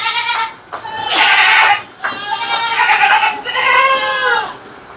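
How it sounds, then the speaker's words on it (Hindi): Home-bred goats bleat loudly and close by, three long wavering cries in a row with brief pauses between them. "तो अभी बकरियां देख ली, अभी कुछ बकरे भी हैं वो दिखाते हैं"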